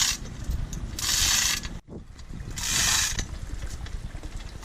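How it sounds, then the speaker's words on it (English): A 1-ton chain hoist hung from a boom lifts a boat engine at a dock. Two long rattling, clicking bursts of chain run through the hoist, with a short pause between them. The sound is close and fairly loud. "we used a chain hoist to lift the engine with the boom"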